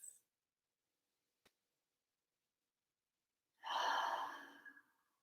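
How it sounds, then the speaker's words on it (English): A single deep breath during a guided meditation, a long, soft, airy exhale near the end after near-silence, preceded by a faint click. "take a few deep breaths"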